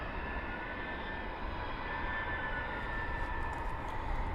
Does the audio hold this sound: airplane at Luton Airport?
yes